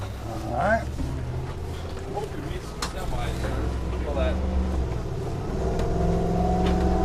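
Ford chassis engine of a 2021 Newmar Bay Star Sport 2905 motorhome accelerating on a test drive, a steady low rumble that climbs in pitch toward the end, with someone talking over it.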